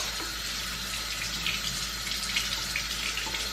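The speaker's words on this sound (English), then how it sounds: "you first turn the water on and make sure that it's hot" Hot water runs steadily from a tap into a sink, a continuous close splashing hiss at a fairly loud level with no voices over it.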